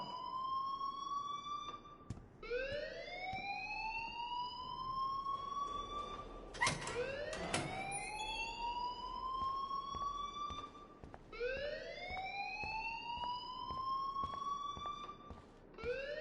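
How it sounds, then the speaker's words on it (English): A wailing alarm in the Life is Strange video game rises and sweeps in repeated long cycles, steady and fairly loud, with a brief clatter midway and no voices. "please turn off that alarm since that's your job"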